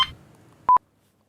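A pair of short, loud electronic telephone tones sounds in a quiet room just after a brief bit of background noise, then silence follows.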